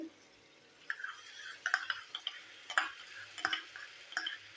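Tomato paste with green chillies and spices cooking down in a pan, a soft background sizzle broken by irregular scraping and tapping strokes of a spatula, close and fairly quiet.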